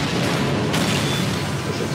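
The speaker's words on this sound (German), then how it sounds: "Das explodiert." A booming explosion in the Half-Life 2 video game fills the mix with a loud, broad rumble and a sharp burst partway through, continuing as a dense roar to the end.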